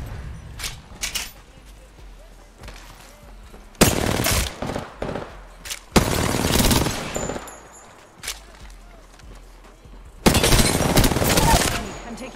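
Apex Legends gunfire, with several loud bursts of rapid automatic shots separated by quieter gaps, heard close and sharp while a player talks.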